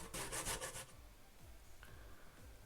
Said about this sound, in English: I'll be grating all these ground provision.